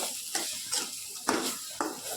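Kebab mixture seasoned with turmeric sizzles in a kadai while a spatula scrapes and stirs it, giving four or five sharp scraping strokes over a soft, continuous fry, close up with no voices.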